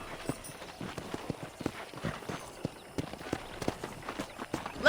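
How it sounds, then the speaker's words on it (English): Horse hooves clip-clop at a steady trotting pace on a ranch in Red Dead Redemption, with rhythmic soft thuds and light ambient noise and no speech. "let's see if you can still ride a horse"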